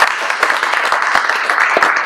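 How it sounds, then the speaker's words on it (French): Audience applause in a hall at the inauguration of a high school agronomy building, dense steady clapping from a crowd, loud and close, with no talking over it. "Donc on va les applaudir et les encourager."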